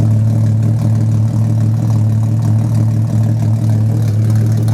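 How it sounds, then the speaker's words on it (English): A straight-piped, catless 2010 Camaro V6 with long tube headers and muffler delete idles after a cold start, a loud, steady low rumble that holds even throughout without revving. "Catless, cold idle."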